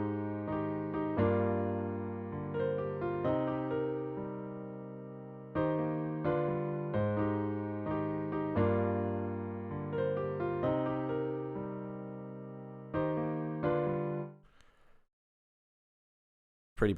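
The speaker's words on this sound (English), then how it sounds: "copied it onto this piano from Xenology, which is the AX piano" Piano synth from Xenology's AX piano plays a simple copied R&B melody in repeating chordal phrases, steady and close, no talk, fading out near the end before a brief click.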